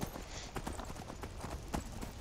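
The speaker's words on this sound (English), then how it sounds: "we've got our amazing horse now. Let's go." Horse hooves clip-clop steadily in Skyrim, a rhythmic series of muffled thuds at moderate volume with no speech.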